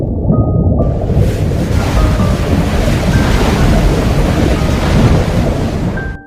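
Sea waves sound effect of a loud, continuous rushing surf roar with a few faint tonal notes over it, building steadily and then stopping abruptly at the end.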